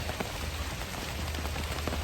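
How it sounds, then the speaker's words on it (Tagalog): Heavy rain pours steadily outside a small store, a dense, even hiss of drops drumming on surfaces that runs without a break from start to finish. "Medyo may kalakas ng ulan."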